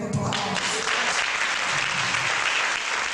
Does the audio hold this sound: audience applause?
yes